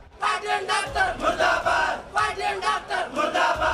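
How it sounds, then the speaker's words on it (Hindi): Transgender protesters in Lahore chant slogans against striking doctors and the hospital administration. Loud, rhythmic, crowd-wide shouts come in regular pulses with brief gaps. "ख्वाजा सराह ने इंतजामिया और हड़ताली डॉक्टर्स के खिलाफ की शदीद नारेबाजी"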